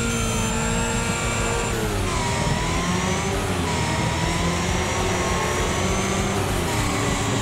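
Race car engines in the video game Wreckfest rev loudly and continuously, with rising and falling pitch sweeps and gear-change jumps over a dense, steady roar.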